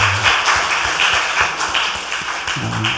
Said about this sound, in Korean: 네, 박수로 격려하십시다.